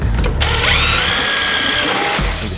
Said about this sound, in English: You just want to make sure that you're drilling on this side